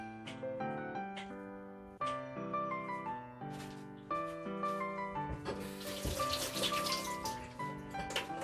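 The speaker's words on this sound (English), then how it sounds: "Let's just wash my hands." Hands being washed under a running kitchen tap, a steady close stream of water splashing into a sink, broken by brief interruptions as the hands move through it, with a soft tonal background throughout.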